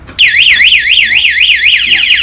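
A Honda Wave 110i motorcycle anti-theft alarm wails in a rapid up-and-down warble, steady and close, sounding continuously after a brief click at the start.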